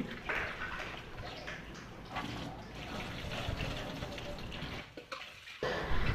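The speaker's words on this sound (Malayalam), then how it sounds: "സാമ്പാർ പരിപ്പാണ് എടുത്തിട്ടുള്ളത് ഇത് നന്നായിട്ട് നമുക്ക് കഴുകിയെടുക്കാം" A quarter cup of toor dal for sambar is swished and rinsed in water close by, with a steady splashing and sloshing that runs throughout and briefly pauses near the end.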